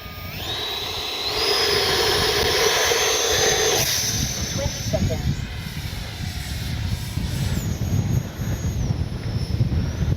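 An Arrows Red Hawk 50mm electric ducted-fan RC jet is launched by hand in windy weather and flies. Its whine rises and sweeps in pitch over gusty wind buffeting and rumble, and it stays fairly loud throughout.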